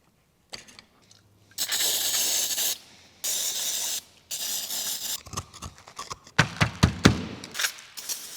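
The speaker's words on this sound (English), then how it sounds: "Just spray it all out, get everything moving" Aerosol spray hisses in several bursts of varying length into a corroded carburetor from a VW Beetle, close and loud, followed by shorter choppy spurts and clicks.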